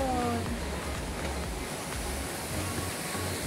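Ocean waves wash onto the shore at La Jolla Cove in San Diego, California, as a steady, soft broadband surf wash with no distinct breaks, heard at a moderate distance.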